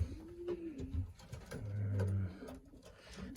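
Pigeons coo repeatedly in a flying loft, low soft rolling calls coming in several overlapping phrases at close range with no talking.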